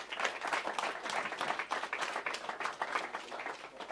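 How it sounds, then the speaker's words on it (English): A crowd of audience members claps to welcome a panelist onto a live panel event, continuous busy applause with fluttering peaks, moderately loud and uninterrupted by talk. "Give him a huge round of applause,"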